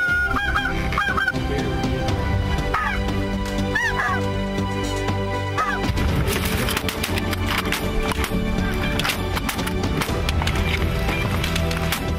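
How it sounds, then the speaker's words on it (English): A large flock of snow geese honks loudly and continuously while hunting in Pennsylvania Dutch Country, the clamour dense and close, and a dog may bark amid the calls. "the vets and I travel to Pennsylvania Dutch Country to hunt snow geese"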